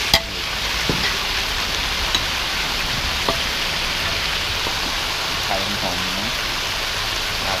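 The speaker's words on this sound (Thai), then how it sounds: "ผัดพริกหยวก" Pork belly and banana peppers stir-fry in a wok at a shop, with a steady loud sizzle and occasional scraping clanks from the spatula.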